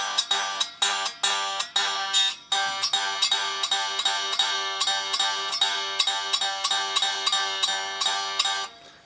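Bright electric guitar notes and strummed chords on a cheap Zuwei Stratocaster-style guitar ring out repeatedly, each decaying with a sustained metallic resonance from the neck, played alone at moderate volume.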